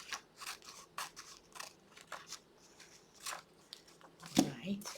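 Scissors snip repeatedly up close, cutting paper ephemera to size for a journal page. Short crisp cuts come in a loose rhythm, joined by a louder crunch near the end, with talking over parts of it.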